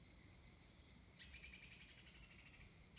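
High, thin bird chirping calls in the Dominican Republic repeat in a steady pulsing pattern, fairly faint, over soft background hiss with no voices.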